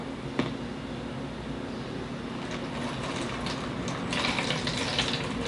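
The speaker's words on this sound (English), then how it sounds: "I think I'm gonna put a little more water in mine." Water poured into a plastic water bottle as a steady, soft splashing wash that grows slightly louder near the end, with no talking.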